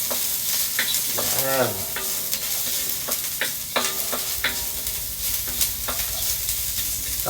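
Ginger sautéing in a pan gives a continuous close sizzle, with scraping stir strokes and clinks of a utensil throughout and a brief spoken word partway through.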